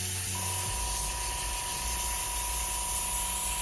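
An airbrush spraying steadily during a color washout, a continuous hiss of air with a low hum underneath, running close and unbroken with no talking.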